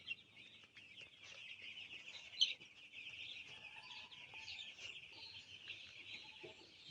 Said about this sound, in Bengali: দেখতে পারছেন মুরগির খামারে আছি